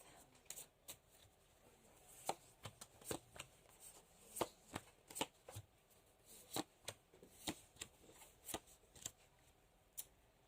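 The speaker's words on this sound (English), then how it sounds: "So 7 cards, 14 days." Tarot cards are shuffled by hand in a steady run of crisp riffling snaps, each one close and sharp against a quiet room.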